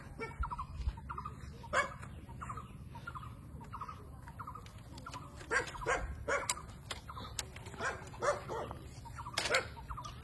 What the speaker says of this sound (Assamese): কুকুৰে ভুকিলে নহয় কুকুৰ আছে